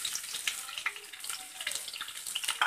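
Chopped onions fry in a hot pan for pasta with a steady close sizzle and crackle, lightly stirred, with no voices over the hiss.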